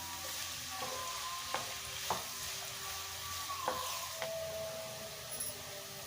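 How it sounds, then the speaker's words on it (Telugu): Capsicum, carrot, green chilli and spring onion stir-fried over a high flame, giving a steady sizzle broken by several sharp scrapes and tosses of a spatula, close and fairly quiet, with no talking. "వీటిని 2 నిమిషాలు హై ఫ్లేమ్లో పెట్టి త్వరగా వేయించుకోవాలి"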